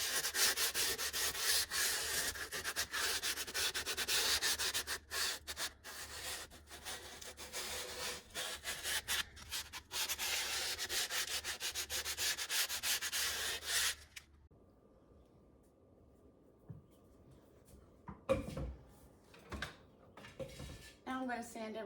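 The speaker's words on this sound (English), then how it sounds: "Now I'm going to sand everything with a 320 grit." Fine 320-grit sandpaper rubs steadily over a painted laminate cabinet, a continuous close scratching that stops about two-thirds through, followed by a few quieter handling clicks and knocks.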